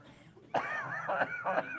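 A sudden cough followed by a couple of rough throat-clearing bursts, fairly close and distinct against a quiet room.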